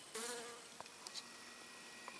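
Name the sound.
bee buzzing near a hand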